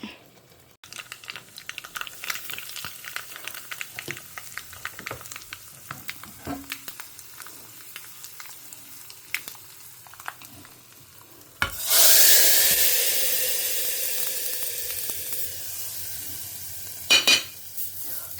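Quiet stirring and small clinks give way to a sudden loud sizzle as mustard seeds, urad dal and asafoetida hit hot oil, crackling steadily then fading slightly.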